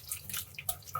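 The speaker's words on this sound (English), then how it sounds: "I'll wash each one of these apples individually, scrubbing the outside in the baking soda water." Apples being scrubbed one by one with a sponge in a basin of baking soda water, giving soft, close splashes and drips in short bursts with no talking.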